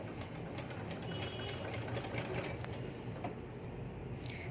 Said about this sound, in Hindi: ये मैंने लेफ़्ट साइड पे इस तरह से सिलाई लगाई है